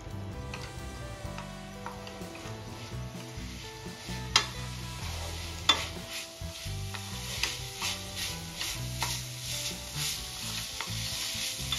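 Chicken mince samosa stuffing sizzles in a pan as sauces, including Schezwan chutney, are stirred through it. A utensil scrapes and taps steadily against the pan over a continuous close frying hiss, with no voices.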